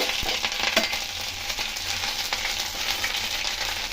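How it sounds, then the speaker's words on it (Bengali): Grated ginger and chopped green chilli sizzle in hot oil after a tempering of five spices, with a steady dense crackle and a few sharp pops, close and continuous with no talking. "একটু ভেজে নেব।"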